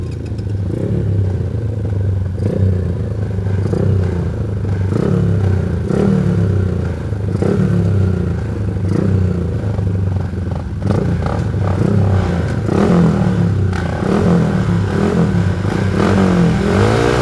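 Motorcycles rev on a race starting grid, a loud, steady engine roar with rhythmic pulsing throttle blips throughout, building slightly toward the end.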